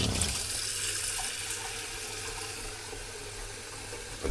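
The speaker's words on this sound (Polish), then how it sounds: "i tak uzupełniamy naszą butlę wody do picia" A drinking-water bottle being refilled from a tap, a continuous loud rush of water filling the container that lasts the whole stretch without talk.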